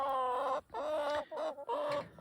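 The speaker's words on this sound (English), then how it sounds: "I can hear the ducks in the background." Farm ducks on a frosty winter morning, giving a short run of close, loud, nasal calls in quick bursts with brief gaps between them.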